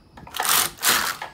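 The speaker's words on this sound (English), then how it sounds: "So I knitted a couple of rows this way." A knitting machine carriage sliding across the needle bed to knit rows of yarn, two quick rasping, clattering sweeps back and forth in close succession.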